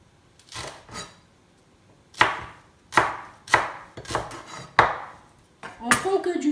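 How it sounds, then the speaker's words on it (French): A knife chops leek into small cubes on a board in a series of crisp, close thuds, first two light cuts, then four firm evenly spaced strikes and a quicker cluster at the end. "Je vais couper le poireau comme ça."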